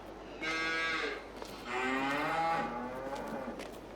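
Two long, loud cow moos from a Farming Simulator 22 herd, the second deeper and more drawn out, sounding close over a quiet low background hum.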